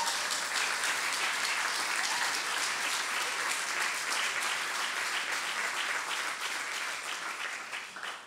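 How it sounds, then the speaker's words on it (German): An audience in a lecture hall claps after an academic lecture introduction, producing dense, sustained applause at an even level for about eight seconds before it begins to taper off at the end. "Jetzt ist der Applaus durchaus gerechtfertigt."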